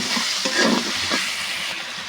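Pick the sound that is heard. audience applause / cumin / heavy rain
cumin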